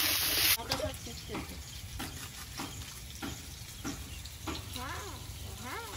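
Potatoes fry in a pan with a continuous close sizzle, broken by repeated stirring scrapes. A voice is faintly present at moments under the sizzle.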